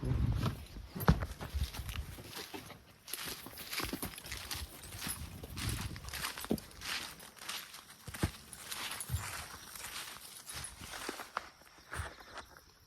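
Hooves of a pair of two-year-old draft horse colts, a mare and a colt, walking in hitch together: irregular soft thuds and clops at a moderate distance over faint background noise.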